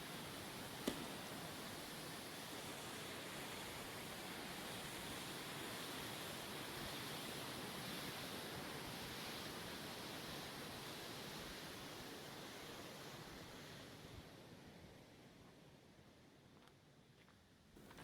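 Rivière du Mât rushing beneath a footbridge, a steady broadband wash of flowing water heard from above, continuous and moderately loud for most of the stretch before fading away near the end.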